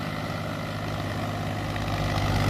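A Mahindra 265 DI tractor engine runs with a steady, loud, low diesel throb, close by and continuous with no talking, rising slightly toward the end.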